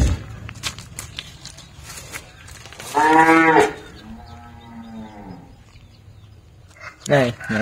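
Charolais cow and calf mooing on a Ben Tre cattle farm, one long loud moo followed by a softer lower call, then another brief moo at the end, with faint talk and background noise throughout.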